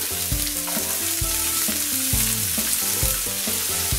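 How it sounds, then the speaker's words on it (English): Steady, dense sizzle of chopped brown onion frying in hot oil in a frying pan, continuous and close, with faint clinks and musical tones running underneath. "Now chuck in 1 brown onion cut up."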